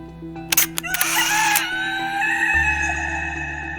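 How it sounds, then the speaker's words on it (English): Close to the microphone, a rooster crows once in a loud, strained call, preceded by a few sharp clicks. A steady low hum continues underneath. "The rooster crowed."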